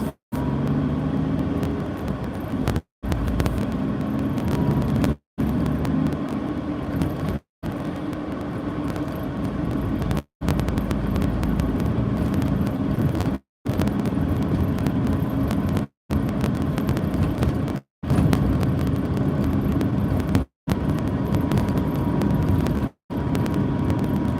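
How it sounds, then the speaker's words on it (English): Heavy road traffic with trucks passing: a loud, steady low rumble of engines and tyres that cuts off abruptly every few seconds before resuming at the same level. "Trucks."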